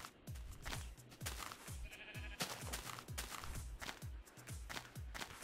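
Sheep bleat in the video game Minecraft, repeated calls mixed with a busy stream of rhythmic footstep-like clicks and game noise, at moderate level throughout.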